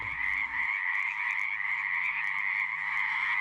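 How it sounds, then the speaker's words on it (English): Sustained croaking trill of a small wild male frog, close and loud, running unbroken from start to finish, with a brief low rumble of movement at the very beginning and no voices. "Here's a little frog just chilling over here."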